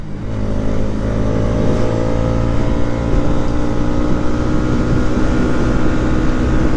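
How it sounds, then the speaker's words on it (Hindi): A Bajaj Pulsar NS200 motorcycle's exhaust note while riding, a steady loud engine drone with layered harmonics that holds throughout with no speech. "I love the exhaust note of the 200"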